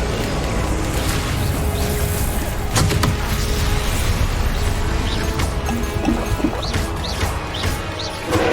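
Incendio fire spell cast in a Harry Potter video game: a dense, loud whoosh of roaring flame with sharp crackling bursts and impacts throughout, no speech.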